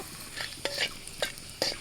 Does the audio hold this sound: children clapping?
no